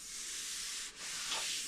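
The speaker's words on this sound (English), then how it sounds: "sanding hardwood splines on a softer wood like pine" Steady abrasive rubbing of sandpaper over hardwood splines set flush in pine, continuous and fairly faint, with a brief dip midway.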